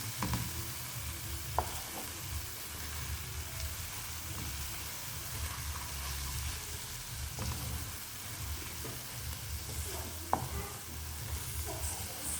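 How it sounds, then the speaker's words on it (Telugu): Ridge gourd and egg curry is stirred in a pan: a steady soft sizzle and scraping with a few sharp spoon clicks against the metal, continuous and close, with no voices. "ఇప్పుడు మనం ఒకసారి మొత్తాన్ని కలుపుకుందాం."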